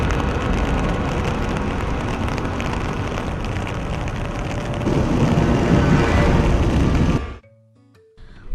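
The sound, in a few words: heavy rain falling in Chennai, Tamil Nadu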